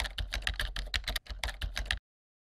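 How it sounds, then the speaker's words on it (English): Brisk typing on a computer keyboard, a quick run of clustered key clicks with a short pause midway, close and clear, ending abruptly in silence. "In fact, you can just start typing."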